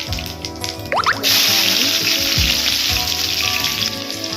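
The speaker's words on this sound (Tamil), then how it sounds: "எண்ணெய் ஊற்றியாச்சு எண்ணெய் நல்லா காஞ்சிடுச்சு கடுகு போட்டுக்கலாம்" Mustard seeds crackle and sizzle loudly in hot oil in a pan, preparing a brinjal and mint dish; a steady, close frying hiss rises sharply and carries on with no talking.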